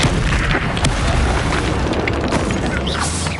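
In the video game Hogwarts Legacy, an Incendio fire spell goes off as a loud, booming fiery blast with crackling bursts, sustained and dense across the whole moment.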